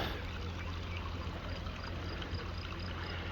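A river flows through a gorge near Montagu on the Cango route, a steady, loud rushing wash of water with a low rumble underneath and no breaks.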